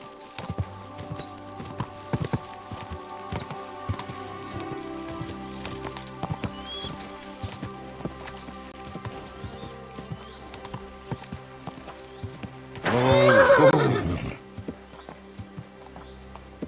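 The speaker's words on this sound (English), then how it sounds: "Don't you know how to ride a horse?" In the video game Kingdom Come: Deliverance II, horse hooves clip-clop in a steady rhythm beneath a low musical drone, then the horse lets out a loud, close whinny near the end.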